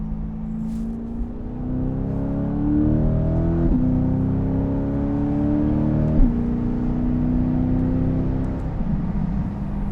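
A 2020 C8 Corvette with a Fabspeed Valvetronic exhaust revs and pulls through several gear changes, a loud, close, deep engine note rising in steps with brief drops between, no talking.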